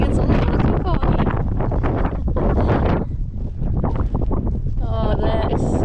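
Strong wind on the Appalachian Trail buffets the microphone in a steady roar, easing briefly before gusting again, with faint rustling in the background.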